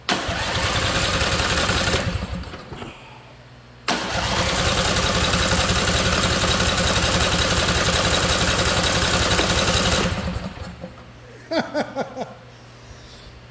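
A Briggs and Stratton engine, firing on only one cylinder from a diode fault, starts and runs loudly with a rough, uneven rhythm for about two seconds, cuts out, then restarts and runs steadily for six more before dying, followed by a few sputtering pops.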